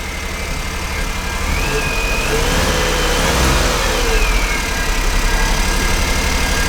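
A small 1-liter engine in a pit vehicle runs close by with a steady low rumble and buzzy drone, rising briefly in pitch as it revs before settling back to a rough idle.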